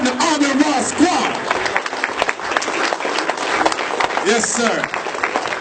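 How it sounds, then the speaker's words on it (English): An audience at a science and technology lecture-series conference bursts into loud, sustained applause and cheering that fills the hall, with voices calling out over the clapping. "a round of applause from the On and Raw Squad"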